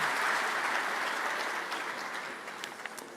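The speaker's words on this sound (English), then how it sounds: "Please give them a big round of applause." A panel audience claps loudly, close and dense, in a steady burst of applause that slowly tapers over a few seconds.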